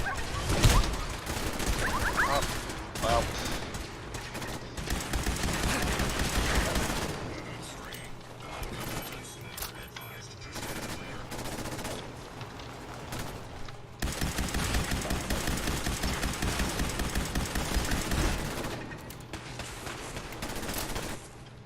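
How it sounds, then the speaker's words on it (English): A minigun in Fallout 4 fires long, loud, continuous rattling bursts against sentry bots, with brief pauses and other battle noise between the barrages. "that's why we bring a minigun"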